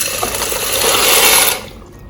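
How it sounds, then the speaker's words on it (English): Pasta, about a pack and a half, tipped into a pot of water with a little oil for a jerk chicken Alfredo; a loud close rush and splash of water that swells and then quickly dies away. "Put in the pasta now."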